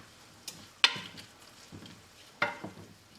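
Stirring curry into seafood pasta in a pan, a few faint scrapes and clinks of a utensil against the pan spaced out over quiet background, no talk.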